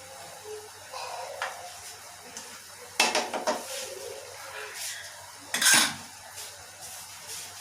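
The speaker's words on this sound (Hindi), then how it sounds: "इनको मिलाते हैं, आहिस्ता आहिस्ता हिलाएंगे" Jaggery rice for gurr wale chawal, a traditional Punjabi sweet dish, is stirred slowly in a pot with a spoon, giving soft scrapes and a few sharper clinks against the metal, with two louder strokes standing out over a quiet background.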